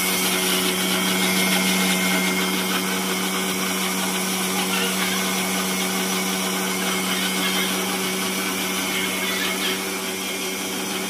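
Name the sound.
mixer grinder blending baby food into a paste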